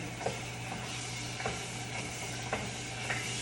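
Mop sauce cooks in a pot in Aruba, a low steady sizzle and simmer with a few soft stirring scrapes at regular intervals, fairly quiet and with no talking.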